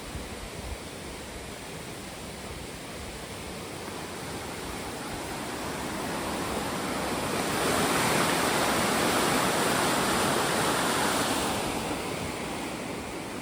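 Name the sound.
river water flowing under a bridge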